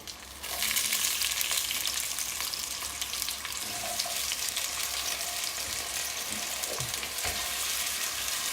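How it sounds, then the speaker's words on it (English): Chicken sizzling in a hot pan, a loud, steady crackle and hiss that starts abruptly and continues unbroken, close up, with faint occasional clinks and no talk. "pan nice and hot. You can hear the sizzle you put in."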